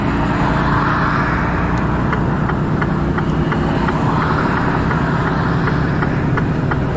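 A car rolls slowly through Warsaw at night, its engine a steady low hum with road noise that stays constant and close throughout, with no talking.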